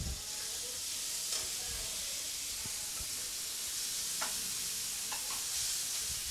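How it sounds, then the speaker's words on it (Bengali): Tomato paste sizzles in a hot pan with a soft, continuous hiss, while a few light scrapes of stirring stand out here and there. The sound is close but fairly quiet. "এবার এর মধ্যে আমি টমেটো বাটাটা দিয়ে দিচ্ছি।"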